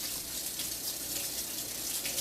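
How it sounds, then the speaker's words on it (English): Tap water runs in a steady, close hiss as fingers are rinsed under it after handling lemon in a kitchen, with no talk during the short burst. "Wash this lemon off my burning fingers."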